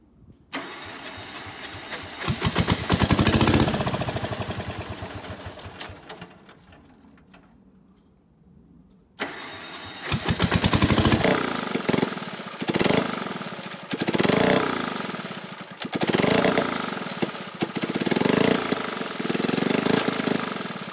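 A diesel engine in a golf cart chassis cranks and catches, running loud and rough, cuts out briefly, then restarts and revs in repeated surges, close and alone with no talk.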